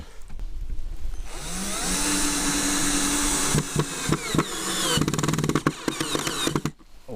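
A cordless power screwdriver drives screws into wooden decking on a pier beside a pond, a whirring motor in sustained bursts broken by sharp knocks and clatter nearby, with no talk.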